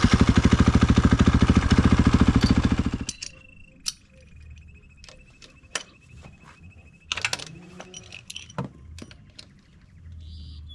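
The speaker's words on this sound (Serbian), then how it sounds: "upalit ću motor samo malo da..." A Gas Gas MC 450 motocross bike idles loudly and close for about three seconds with a fast, steady chug, then cuts off, leaving scattered small clicks and knocks in a quiet space.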